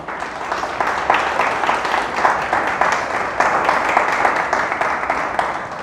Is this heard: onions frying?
no